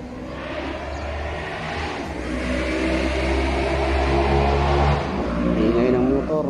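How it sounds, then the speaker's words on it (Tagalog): A motorcycle engine drones steadily close by in an outdoor garden at night, growing a little louder as it runs, with no talking over it. "Ingay ng motor mga tol."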